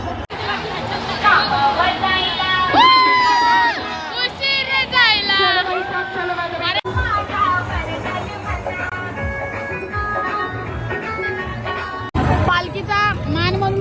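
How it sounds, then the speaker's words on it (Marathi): Large crowd at a palanquin procession during the Nirmal Yatra, with continuous chatter from many people and several nearby voices standing out loudly over the general din. "पब्लिक पब्लिक पब्लिक गर्दी गर्दी गर्दी"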